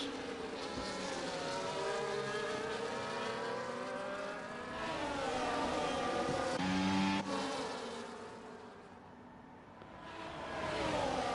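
Several race cars in a racing video game scream past with rising and falling engine whines, overlapping pitches sweeping up and down, steady and fairly loud with no talk.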